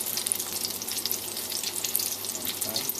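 Steady, close sizzling of tomatoes frying in a pan, a continuous crackling hiss with no talking.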